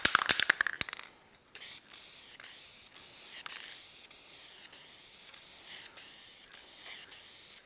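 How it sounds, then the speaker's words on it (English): Krylon spray lacquer is misted onto a wooden cradle in a workshop, a few sharp clicks up front, then a soft, steady hiss of aerosol spray running in short bursts close by. "Just a little bit of Krylon spray lacquer."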